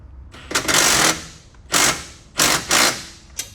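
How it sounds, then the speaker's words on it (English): Bursts of a power impact tool tightening the rear bumper bolts on a Kawasaki Ridge with a 1/2 inch socket, four loud close rattling runs separated by short pauses. "So you're gonna go ahead and tighten everything back here first"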